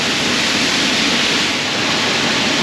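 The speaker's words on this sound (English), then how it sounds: "Look at this, I'm under a waterfall." Waterfall in a garden at the Lisbon Oceanarium, a steady, loud, close rushing roar of falling water with no breaks, heard from right underneath it.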